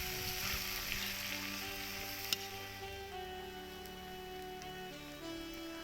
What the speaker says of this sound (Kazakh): Томатымыз қызарғанша тағы да қуырамыз 5-10 минутта.